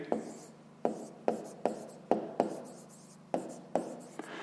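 A pen writes numbers on paper in a fifth-grade maths exercise on decimals, a run of about a dozen short, distinct scratching strokes in an uneven rhythm, close and quiet with no voices.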